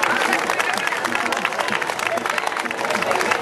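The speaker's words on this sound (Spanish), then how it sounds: "Un aplauso." Loud, dense applause and crowd noise from an audience at an outdoor town festival concert, welcoming the trumpet player of a live orchestra, continuous throughout with cheering and babble mixed in.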